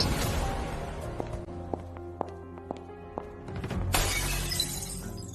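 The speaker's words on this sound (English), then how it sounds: "Behind me came the sound of Quentin smashing a glass." A glass smashes loudly and close, a bright shattering burst after a run of quieter sharp taps and knocks.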